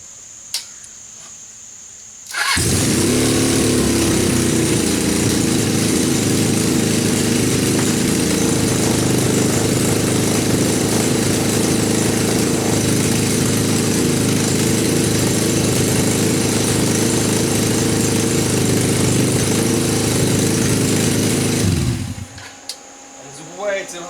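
A Suzuki GS500 engine in a mini buggy idles too high. It makes a loud, steady, unchanging drone for about twenty seconds, then starts and cuts off abruptly.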